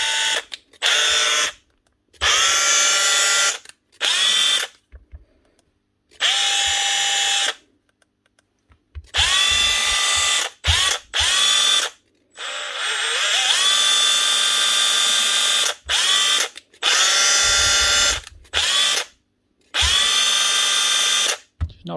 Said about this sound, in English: 1/2 inch nut gun.